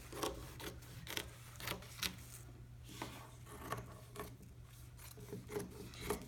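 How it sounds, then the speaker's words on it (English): Scissors cut through repurposed old curtain fabric for a purse lining, with soft, repeated snipping and rasping strokes at a steady rhythm close by, over a faint low hum. "I'm going to cut the second piece of fabric. That's going to be my purse lining."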